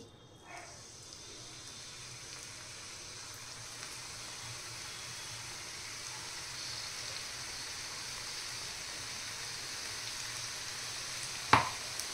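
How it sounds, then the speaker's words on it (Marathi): Onion bhaji fritters made without water or soda, dropped into hot oil, give a steady soft sizzle that slowly builds over many seconds, with a light clink of a utensil near the end; no talking. "तेल पण आपलं आता छान तापलेलं आहे। आता आपण भजी सोडूया।"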